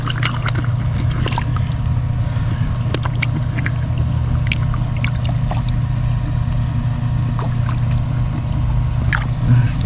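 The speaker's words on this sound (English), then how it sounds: "Water's coming from somewhere." Water trickles and pours into a freshly dug drainage hole, a steady close flow with scattered small splashes over a low rumbling hum.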